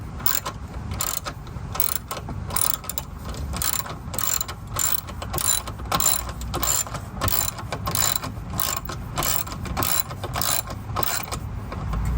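A ratchet turns a 10 mm bolt on a Honda Civic headlight assembly, giving a steady, close run of sharp, evenly spaced clicks that continues throughout with no talk.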